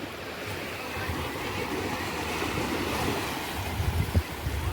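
Sea waves wash steadily onto the shore at Koliyak on the Gujarat coast, a continuous close rushing surf with wind noise, swelling slightly louder near the end.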